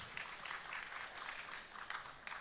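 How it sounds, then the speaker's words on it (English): Audience applause after a blessing at a Big Brothers Big Sisters gala evening, a faint, steady patter of many hands clapping at a distance for a couple of seconds. "Please give them a round of applause."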